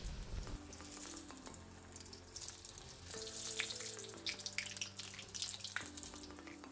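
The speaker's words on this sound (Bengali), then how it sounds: "এই যে কড়াইতে গরম তেলের মধ্যে দিয়ে দিচ্ছে মা এবার এক এক করে চিকেনগুলো, দিয়ে ভালো করে ভেজে নিতে হবে।" Pieces of homemade chicken pakora fry in hot oil in a wok, a soft, quiet sizzle with faint crackles and a low steady hum behind it.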